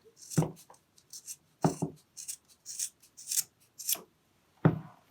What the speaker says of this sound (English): And then we're just going to make a chop straight across there.